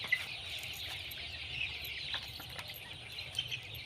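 A large flock of about 5,000 chickens kept across two poultry farms makes a faint, steady murmur of clucking and chatter that continues without a break.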